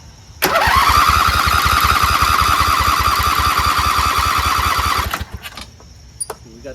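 A Briggs & Stratton V-twin engine with freshly replaced pushrods, head gaskets, cylinder head and carburetor fires up abruptly and runs loud and steady with a rapid, even pulse for about four and a half seconds, then cuts out, leaving faint clatter.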